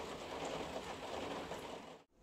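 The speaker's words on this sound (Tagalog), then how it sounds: "Yan lang yung ulan namin ngayon dito." Light, steady rain falling near a home during a storm, a soft constant patter and hiss that holds evenly before cutting off abruptly near the end.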